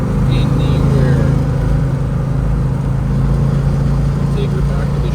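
A 1972 Plymouth Roadrunner cruises at highway speed on low revs, its engine giving a steady, deep drone blended with road and wind noise, while people talk over it.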